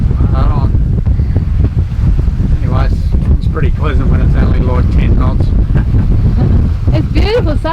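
Sailboat moving through about 10 knots of wind off New Caledonia, a loud constant roar of wind buffeting the microphone with water rushing beneath, as people talk over it.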